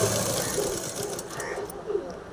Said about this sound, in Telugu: ఇదిగోండి, ఈ విధంగా స్టిచ్ చేసుకోవాలి. అంచుకు పెట్టేసుకొని స్టిచ్ చేసుకుంటా వచ్చేయండి.